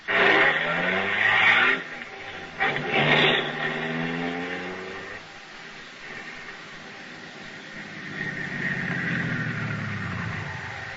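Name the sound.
car driving off, radio drama sound effect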